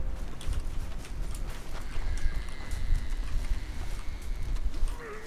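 Horse hooves clip-clop in the Red Dead Redemption video game, a steady run of hoof beats over a rumbling outdoor background that continues throughout, with faint ambient noise.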